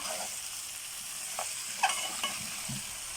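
Vegetables sizzle quietly in a pan while a spoon stirs them together, giving a few soft scraping clinks over a steady low hiss of frying.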